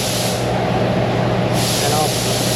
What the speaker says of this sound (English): I'll spray brake clean on this